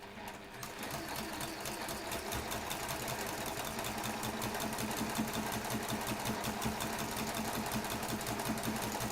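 A sewing machine runs steadily for the whole stretch, stitching a quilt block seam with a fast, even mechanical whir and rapid needle clatter, close and loud with no talking.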